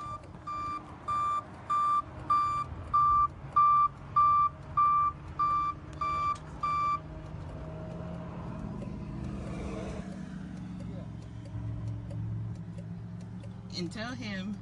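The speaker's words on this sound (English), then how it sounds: "Tow truck trying to impound the car as we speak." A tow truck reverses while trying to impound a car, sounding about ten evenly spaced loud reversing beeps over a low idling engine. The beeps stop partway through and the engine rumble continues alone.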